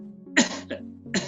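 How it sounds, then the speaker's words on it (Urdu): Two dry, throaty coughs without phlegm, short and harsh, close to the microphone, the second a little softer, with a faint hum behind them. "یہ تھروٹی کاف ہے جس میں کوئی بلغم نہیں شامل"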